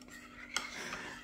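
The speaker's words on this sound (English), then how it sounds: "I'll just give them a stir, look." A spoon stirs porridge oats in a bowl, giving a faint scrape and one small clink of metal against the dish in a quiet moment.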